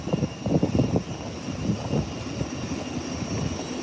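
A plane roars down the runway at Howard Hamilton International Airport on its takeoff roll, a loud rumbling engine drone that surges early and then settles into a steady distant hum.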